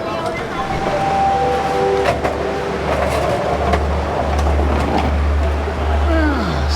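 Inside the passenger carriage of the Rapid 171 train to Hua Hin, a steady low rumble and hum fill the space continuously, with faint clatter and occasional voices in the background.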